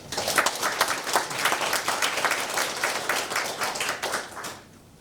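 An audience at a church gathering applauds the secretary general, a dense, steady wash of clapping that holds for about four seconds before tapering off.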